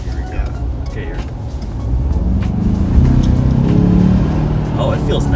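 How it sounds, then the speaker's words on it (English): A turbocharged 2.7-litre EcoBoost engine in a 2019 Ford Ranger pickup pulls away from a right turn, its low drone and road rumble swelling steadily over several seconds inside the cab. "That's that turbocharged engine. I know. Yeah, that's the EcoBoost."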